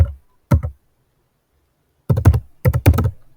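Typing code on a computer keyboard for a Python file-handling script, a short tap, a double click, then two dense bursts of close, crisp keystrokes separated by silence.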